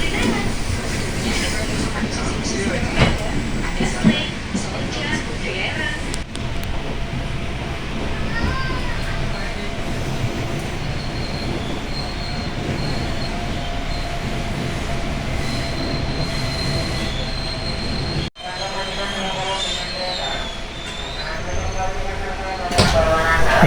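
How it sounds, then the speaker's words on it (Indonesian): A KRL commuter electric train travels between Tangerang and Pasar Senen, its steady rolling rumble and rail noise running continuously with a wheel squeal and a brief dip near the end, as heard from inside a carriage. "sekarang jam 20:30 kereta mulai diberangkatkan kembali."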